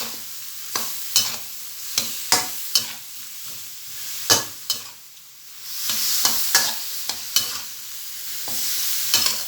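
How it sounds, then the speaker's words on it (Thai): Mixed vegetables stir-fried over high heat in a home kitchen, with a steady sizzle under sharp, repeated scrapes and clacks of a spatula against the pan, loud and close, no talking. "นะคะเปิดไฟแรงนะคะแล้วก็ผัด"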